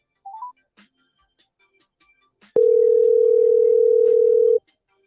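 A few faint phone keypad beeps, then a loud steady telephone tone holds for about two seconds before cutting off abruptly into silence.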